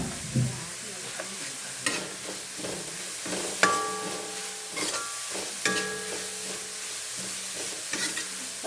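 Curry leaves sizzling in hot oil in a pan with ginger and garlic; a close, steady crackling sizzle punctuated by irregular scrapes and taps of a stirring spoon, no voices.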